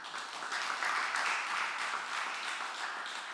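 Applause from a seated audience at a Korean prayer breakfast greets a pastor, a soft, even wash of clapping that holds steady throughout without anyone speaking over it.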